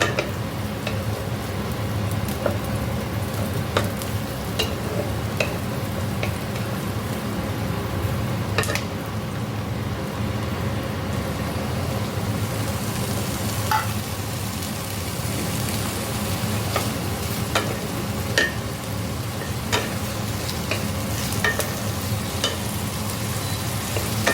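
Food sizzles and fries steadily in a hot pan, with occasional scrapes and knocks as it is stirred and turned, a dense continuous crackle with no talk.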